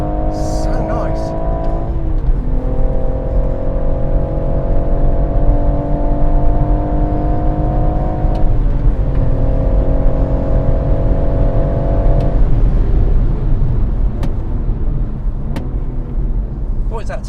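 A BMW M140i on the Goodwood circuit drones loudly under steady throttle, its engine note dipping with each lift of the throttle, with occasional sharp ticks and tapping sounds over the engine and people talking inside the car.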